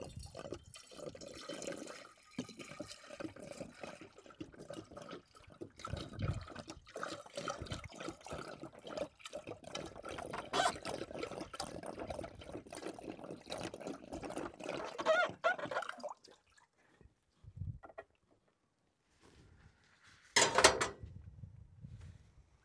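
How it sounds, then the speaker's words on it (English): Tap water runs steadily for about fifteen seconds into a pot for cooking sweet corn at an overland Jeep TJ camp, then stops, followed by a brief clatter. "Get some water going for the corn."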